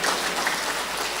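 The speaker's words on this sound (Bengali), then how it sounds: "আমাদের প্রাণের নিগ্রানো নিরন্তর শুভেচ্ছা করতালির মাধ্যমে তাদেরকে জানাই" Dense, steady applause from a conference audience at an educational development session, a loud continuous wash of many hands clapping alone for the whole stretch.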